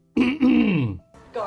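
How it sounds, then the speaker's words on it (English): A single voiced groaning throat-clear, loud and close, drawn out and falling in pitch, followed by a brief rougher rasp. "I'm just clearing my throat"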